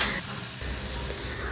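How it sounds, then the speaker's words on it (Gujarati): Chopped bitter gourd sizzling in hot tempering oil over a very low gas flame for cashew and bitter gourd curry, a steady close, broadband crackle and hiss that holds evenly without any talk. "વઘારમાં આપણે સમારેલા કારેલા નાખીને ગેસની ફ્લેમ સાવ ધીમી રાખીને સરસ રીતે મિક્સ કરી લેશું વઘારમાં"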